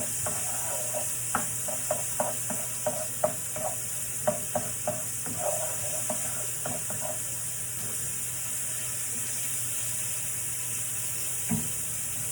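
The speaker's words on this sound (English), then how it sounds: "Saute this for about 2 minutes." Food sautés in a pan with a faint steady sizzle under a constant kitchen hum, punctuated by light scraping and tapping of a utensil in a loose rhythm, no voices.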